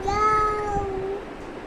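A young child imitates a cat's meow with one drawn-out, rising and falling vocal mew, close and clear.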